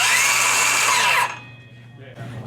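Milwaukee M18 cordless power saw whining loudly at full speed for over a second, then braking to a quick stop, followed by a faint low hum and a short burst of noise.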